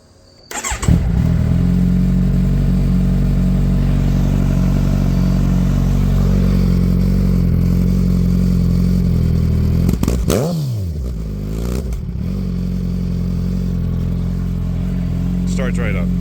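A Kawasaki Ninja 1000 motorcycle under rebuild cranks and fires up, then settles into a loud, close, steady idle with a couple of brief revs partway through.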